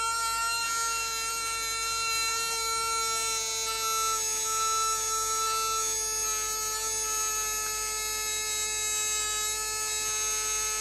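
A Hawk JK Retro sealed slot car motor running in on a 5 volt supply at about 26,000 RPM, giving a steady, high-pitched electric whine that holds evenly throughout.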